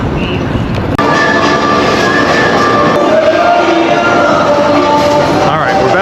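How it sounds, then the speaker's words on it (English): A passenger train in Ukraine rolls along with a steady, loud rumble of wheels and carriage noise, with faint voices murmuring underneath the continuous ride. "Let's go take our last train ride in Ukraine."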